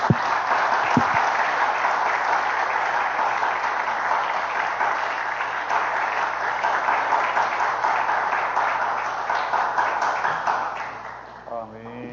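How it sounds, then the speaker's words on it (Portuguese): A church congregation applauds during an evening worship service, a dense, steady wash of clapping lasting about twelve seconds before thinning out, with some voices mixed in beneath. "Aplauda ao Senhor com alegria."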